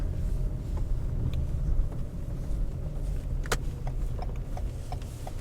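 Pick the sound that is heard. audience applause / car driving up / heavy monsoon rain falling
car driving up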